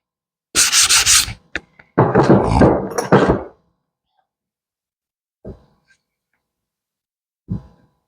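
A round file rasps at a hole drilled in wood while a brush rack is being made: a dense, loud rasping run of several strokes, a short pause, then a longer burst of filing, followed by two brief, fainter scrapes.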